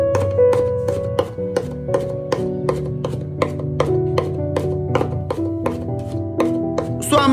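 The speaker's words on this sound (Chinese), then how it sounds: "然后再改刀把它剁成蒜末就可以。" A kitchen knife rapidly minces sliced garlic on a board, about twenty crisp, even chops in a steady rhythm, close and loud, with no voices.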